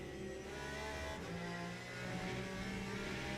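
Race car engine in the Le Mans Ultimate video game, a loud, steady, close engine drone with shifting pitch through a gear change, running on its own with no voices.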